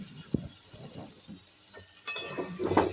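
Paneer cubes are stirred into palak in a pan, a soft sizzle under scattered stirring scrapes and a few light metallic clinks toward the end.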